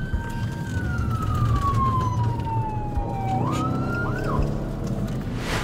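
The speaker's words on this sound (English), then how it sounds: "With sirens wailing" A police siren wails over the rumble of a moving vehicle, its pitch sliding down slowly and then whooping back up.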